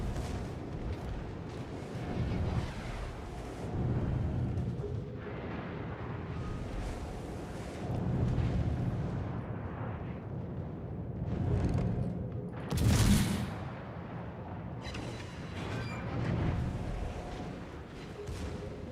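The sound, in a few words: naval gunfire and explosions in World of Warships video game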